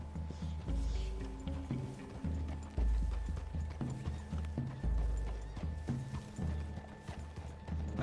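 Horses walk in the Red Dead Redemption 2 video game with an uneven, steady clip-clop of hooves, moderately close, over a quiet ambient background.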